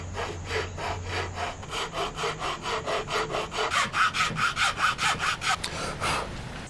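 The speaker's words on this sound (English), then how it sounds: "So now I can use my nut slot file to actually go the rest of the way." Steady back-and-forth rasping of a nut slot file cutting into a guitar nut, a rhythmic series of short scraping strokes, close and clear, speeding up slightly toward the end with no talking.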